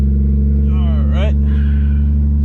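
Toyota Supra MKIV driving around the block, its engine a steady loud low drone throughout the interior, with a person speaking over it.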